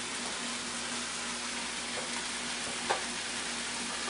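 Ginger and vegetables saute in a hot pan, giving a steady close sizzle throughout with one small clink of a utensil midway and no talk.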